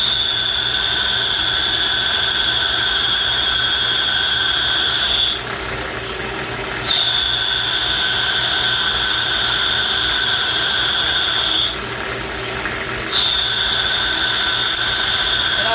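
A Mazak CNC lathe turns 316 stainless steel bushings with a loud, steady machine drone. A sustained high cutting whine runs through it and breaks off twice, briefly, before it resumes.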